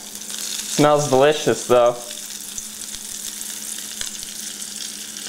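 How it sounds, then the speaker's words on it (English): Steak fries in a little oil in a pan, a steady close sizzle that runs throughout while a person speaks briefly over it. "Now when you're putting the steak in, you need to make sure that you don't put a lot of oil in."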